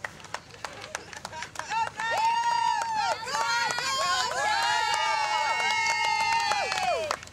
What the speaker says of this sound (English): They are cheering for me.